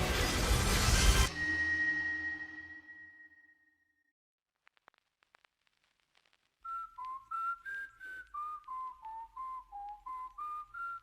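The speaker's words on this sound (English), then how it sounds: "Oh, I like the whistle." A whistled melody from a K-pop music video plays as a rhythmic series of clear, steady whistle notes over a soft beat, following a loud burst of sound that fades into near silence.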